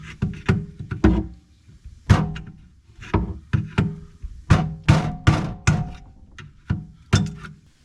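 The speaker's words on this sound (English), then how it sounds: "Nothing a couple whacks with a hammer can't fix." A long run of sharp metallic thunks, irregular and close, as a hammer strikes kitchen sink plumbing at a garbage disposal over and over with short pauses between blows.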